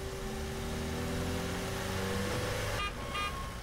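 A car arrives at a recycling center in a video game, its engine droning steadily and close for a few seconds before the tone shifts with a brief higher-pitched sound near the end.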